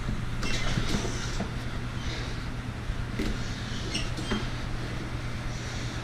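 A Cub Cadet LT1022 lawn tractor engine runs steadily and close by after starting, a continuous low mechanical drone with a few brief clicks and knocks over it.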